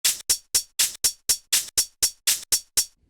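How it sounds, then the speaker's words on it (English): Twelve evenly spaced sharp claps or hits mark out the beat of a 3/8 bar, crisp and close, with short silences between them and nothing else heard. "so the beat falls on the first eighth note,"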